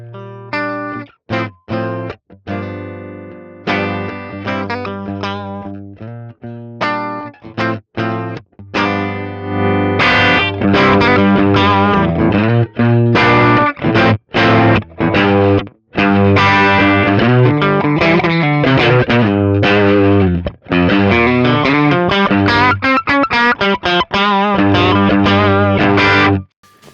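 Distorted electric guitar rings out loud through a Fender tube amp, alternating sustained chords and choppy, stop-start riffs with warm, saturated tone.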